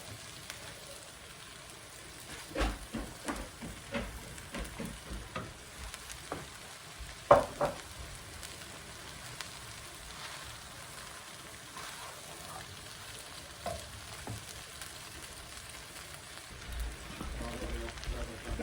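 Chicken pieces frying in a home kitchen pan, a soft steady sizzle broken by scattered scrapes and knocks of stirring, fairly quiet, with occasional talk in the background.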